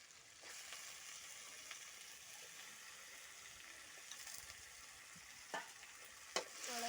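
Chicken frying in a pan with onion, tomato and potato, a low, steady sizzle throughout with a few brief stirring scrapes and clinks near the end, and no speech.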